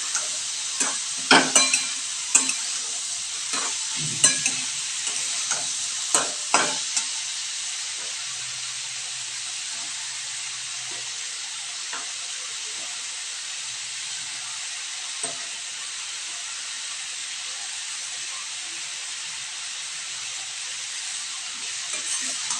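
Chopped water spinach stalks hit a hot pan alongside potato and eggplant and fry with a steady sizzle, broken by several sharp stirring clatters early on, then a continuous close hiss.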